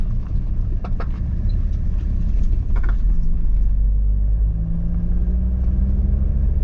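Car creeping slowly along a potholed countryside road, a low steady rumble of engine and tyres with occasional knocks and jolts from the rough surface.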